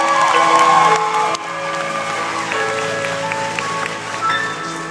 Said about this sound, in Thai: ขอเสียงปรบมือเท่าเจ้าของเพลงครับ